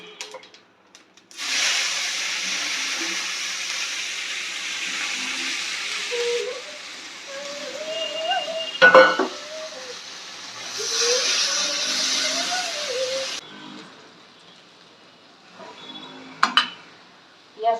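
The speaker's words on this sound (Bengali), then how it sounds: "তেলের মধ্যে দেবো জিরা, পেঁয়াজ করে ভালো করে ভাজতে নিই" Cumin seeds and onion hit hot oil in a home kitchen pan, giving two long bursts of steady sizzling hiss with a clink of utensils in between. A soft voice can be heard faintly underneath.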